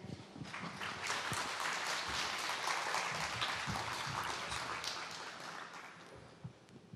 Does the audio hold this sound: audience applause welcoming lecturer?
yes